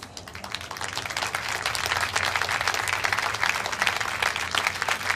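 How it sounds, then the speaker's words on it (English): An audience claps for a volunteer at a magic show, the applause swelling from a thin start into a loud, dense, sustained round of many hands that holds steady to the end. "Round of applause for my wonderful volunteer"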